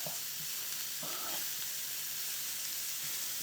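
Beef and pork pie filling sizzling in a pan as it cooks down, a faint steady hiss with a couple of soft stirring scrapes near the start.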